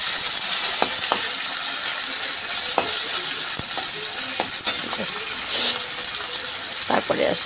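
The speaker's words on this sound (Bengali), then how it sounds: "দিয়ে একটু ভালো করে নাড়াচাড়া করে নিই" Chopped tomato and fried potatoes are stirred in a hot pan, with a steady loud sizzle and repeated scraping clicks of the spatula against the pan throughout.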